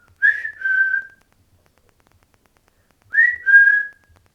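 Two clear whistles imitated by a human voice, each a short rising note sliding into a held tone, separated by silence and close to the listener.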